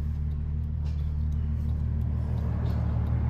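A VW Jetta VR6 with a straight pipe idles in a steady, deep rumble, its low exhaust drone holding even and close without revving.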